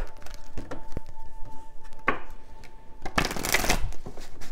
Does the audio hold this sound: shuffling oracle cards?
yes